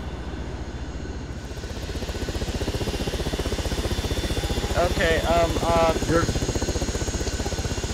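Helicopter engine in the video game ArmA 3, a steady loud rotor thump and turbine whine droning throughout, with a person speaking briefly over it.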